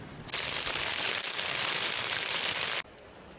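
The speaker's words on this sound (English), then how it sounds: "heavy rainfall continues to batter other parts of China" Heavy rain in China pours down in a dense, steady roar of broadband hiss that begins abruptly, holds loud for a few seconds, then drops away.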